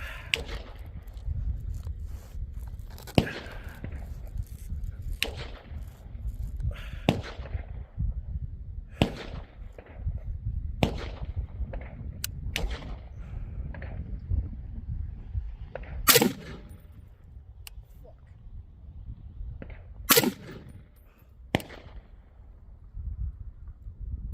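A Sig MCX Spear rifle fires a series of sharp, loud shots at an outdoor range, spaced a few seconds apart over a low steady background rumble.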